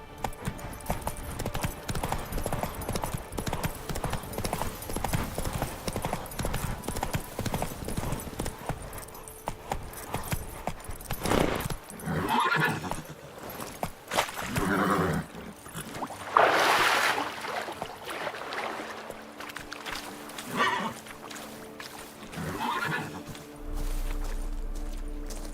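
Roach the horse galloping in The Witcher 3, a steady run of hoof clip-clops that thins into scattered louder thumps and clatter later on, with no clear neigh.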